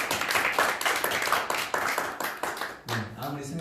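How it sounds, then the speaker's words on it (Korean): A church congregation applauds together in a dense, steady burst of clapping for nearly three seconds, and a voice begins speaking as it fades. "박수로 영광 드리겠습니다."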